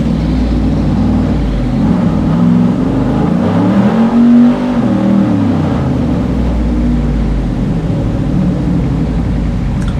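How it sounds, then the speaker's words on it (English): A race car engine drones loudly and continuously with rising and falling revs at LS Fest East, the transmission struggling to engage as pitch sweeps up and back down. "So obviously you can hear the transmission not cooperating."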